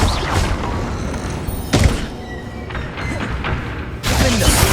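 Spell blasts in the Hogwarts Legacy video game, heavy booming explosions with thuds and crackling debris landing in bursts every second or two amid continuous combat noise.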